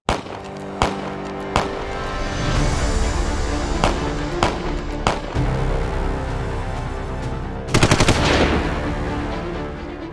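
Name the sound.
gunfire during attack in Baisaran valley, Pahalgam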